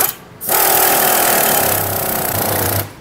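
An impact wrench or power tool tightening a nut on a front shock absorber rod, a loud, close, continuous rattling buzz lasting over two seconds before cutting off.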